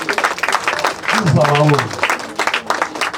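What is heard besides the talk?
audience applause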